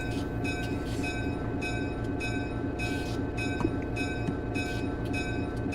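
An EMD GP9 diesel locomotive in a train simulator game rumbles steadily at low throttle, a continuous moderate engine drone with a faint repeating rhythmic clatter, no voices.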